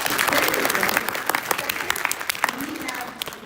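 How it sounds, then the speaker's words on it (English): An audience at a school academic night and spring concert applauds a student, with steady dense clapping throughout and a faint murmur of crowd voices mixed in. "Let's give him a round of applause."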